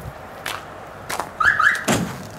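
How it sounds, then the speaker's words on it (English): Two quick electronic chirps from a Chevy cutaway truck unlocking by key fob, close by, amid soft thuds and footsteps in a quiet outdoor space. "you'll hear the beep."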